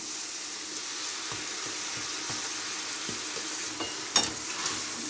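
Chicken chow mein sizzles steadily in a pan, with soft scraping stir strokes and a brief clatter near the end; no voices.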